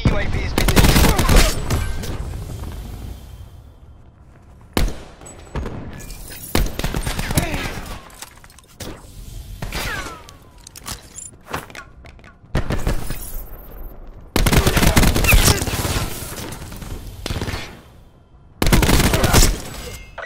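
Maddox RFB assault rifle gunfire in the video game Black Ops 4, loud rapid bursts of automatic fire separated by brief pauses, with game effects in between.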